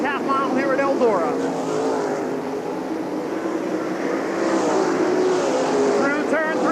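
Sprint cars at a World of Outlaws race on Eldora Speedway's high-banked dirt half mile, engines droning steadily in the background beneath continuous race commentary.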